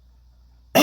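A woman with a sore throat lets out a single sharp, close cough that breaks abruptly out of near silence.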